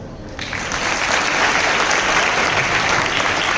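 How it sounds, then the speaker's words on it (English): Audience applauding during an English declamation event: a loud, dense, sustained wash of clapping that swells in quickly and holds steady, filling the hall. "Please clap."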